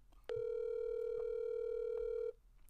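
A single steady electronic ringback tone sounds on a telephone call for about two seconds, even and unbroken, then cuts off into quiet line hiss.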